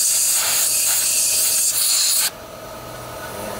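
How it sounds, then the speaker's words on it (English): Compressed air blows through the nozzle and passages of an old Briggs and Stratton lawnmower carburetor. It is a loud, steady close-up hiss for about two seconds, then it cuts off and leaves a faint background. "Make sure to blow through the main nozzle up through the center of the carburetor."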